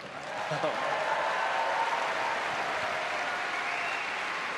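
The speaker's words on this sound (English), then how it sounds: "that's worth applause" A studio audience applauds steadily and fairly loud for several seconds during a talk show with Roger Federer, the sound dense and sustained.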